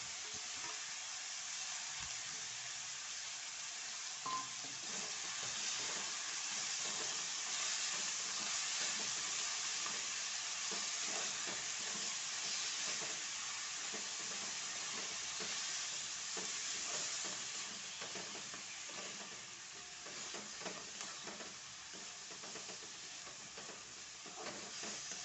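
Chopped fenugreek leaves fry and are stirred in a pan, a constant bright sizzling hiss with small crackles and scraping stirs, steady throughout.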